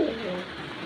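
A racing pigeon gives a single brief, low coo, faint and close, lasting under a second.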